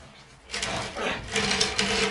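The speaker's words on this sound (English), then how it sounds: "So I unscrewed the stairs and turned the base around." A power driver whirs in a couple of sustained bursts as screws are backed out of temporary wooden stairs, close and moderately loud, grinding against the wood.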